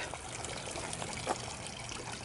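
Garden water fountain trickling steadily among vegetable beds on a hot summer day, a soft continuous splashing with a faint brief spurt, close and quiet with no talk.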